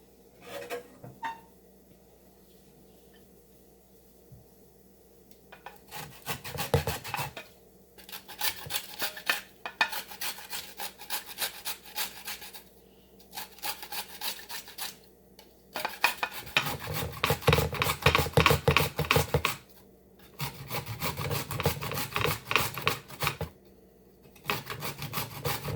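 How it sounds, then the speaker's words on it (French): Carrots rasp against a grater in repeated bursts of rough scraping, steady back-and-forth strokes with short pauses between runs, close-up and unaccompanied by talk. "Deuxième étape, nous allons râper nos carottes."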